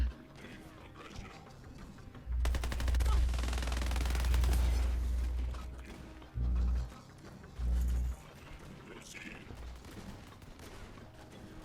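Rapid-fire fast spin-up weapon in the Borderlands game, firing as a loud sustained mechanical burst of about four seconds followed by two shorter bursts, with quieter game ambience between.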